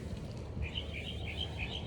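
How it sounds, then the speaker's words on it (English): Faint birdsong drifts over steady low background noise, a series of high, sweet chirping notes repeating from some distance. "Hear how beautiful the birds are singing."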